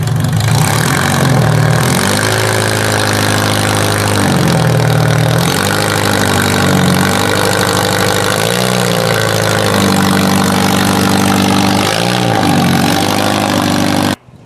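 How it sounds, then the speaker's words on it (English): A car that had sat unused for two years idles steadily after firing up, its engine note loud and continuous throughout with a few brief revs rising and falling, then cutting off abruptly at the very end. "after sitting for 2 years, this thing just fired up instantly"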